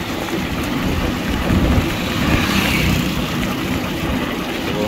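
Steady rain pours down in a continuous, even hiss with a low rumble underneath, with no pauses.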